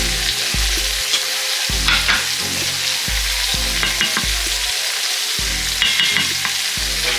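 Pot roast sautéing with butter in an Instant Pot, a steady loud sizzle with repeated low clunks and scrapes of a utensil stirring against the pot bottom, no voices.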